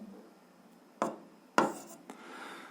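Marker or chalk strokes on a board while working an algebra exercise, a few short scratchy bursts spaced apart, fairly close and quiet, with no talking.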